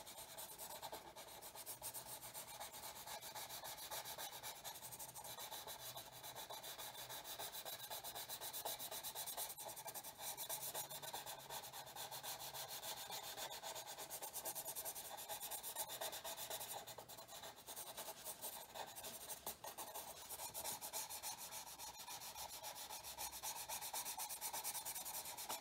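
A pencil scratches and rubs continuously across paper while sketching palm trees, a faint, close, dry texture with no talk.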